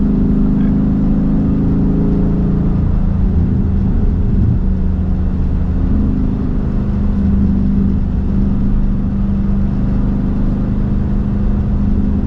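Manual Ford Mustang with a Coyote V8 engine running steadily while being driven, a continuous close engine drone and road roar throughout with small shifts in pitch.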